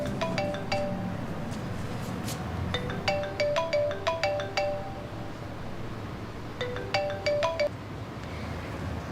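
A mobile phone rings with an incoming call, its melodic ringtone chiming in two separate bursts of quick repeated notes. The ringing is clear and moderately loud over a quiet room background.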